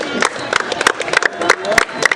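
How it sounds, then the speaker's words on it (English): Scattered clapping follows an under-16 school cricket match, marking the team's strong display. Irregular sharp claps sound fairly close and mix with voices talking over them. "Big round of applause for the team for this brilliant display so far."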